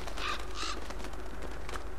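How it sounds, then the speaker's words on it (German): A crow-like bird caws twice in quick succession inside the video game Uncharted 2, loud and close, followed by a fainter call, with no one talking over it. "Hallo Vogel."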